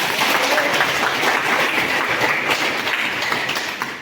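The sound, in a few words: audience applause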